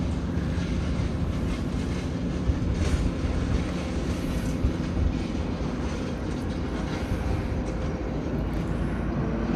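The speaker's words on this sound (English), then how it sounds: "The Guam flight is taxiing out." An airliner on the Guam flight taxis out to the runway, a steady, continuous broadband engine rumble and hiss at moderate distance, unbroken from start to finish.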